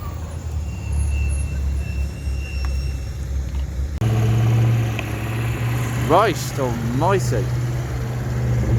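A modified British Leyland-era car with a raspy exhaust at a BL Day classic car show at Gaydon idles with a low rumble, then revs rise and fall sharply in a few quick blips, with a man exclaiming over it.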